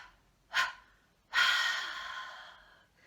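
Two breaths in a choir vocal exercise: a short sharp panting puff, then after a pause a longer breathy exhale that fades out, close and alone.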